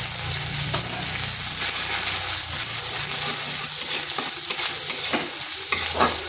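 Spices with turmeric fry gently over low heat, a continuous close sizzle with stirring and scraping of a spoon against the pan, no speech.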